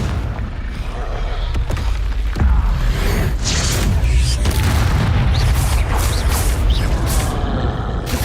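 Confringo spell blasts go off in the Hogwarts Legacy video game: a series of loud, booming bursts and crackling impacts over a continuous roar of combat noise, with one heavy thump standing out early on.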